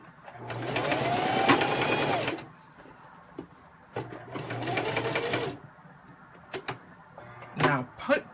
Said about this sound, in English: I pivot and turn and then sew around the pocket, pivot and turn, and then continue to the end